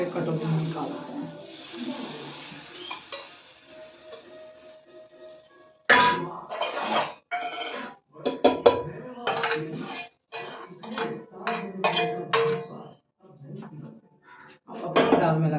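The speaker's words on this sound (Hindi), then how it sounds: "इसको एक कटोरी में निकालते हैं।" A steel spoon clinks and scrapes against a pot as cooked dal is ladled into a small bowl in a home kitchen, with sharp irregular clatters following a quieter stretch of soft stirring and someone talking.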